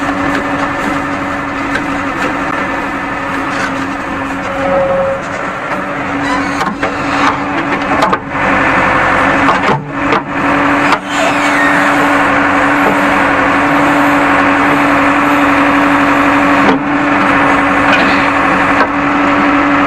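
JCB 3D backhoe loader engine running steadily while digging a trench for pipeline work, a continuous loud diesel drone with a constant hum, punctuated by brief clanks and scraping knocks, no talk.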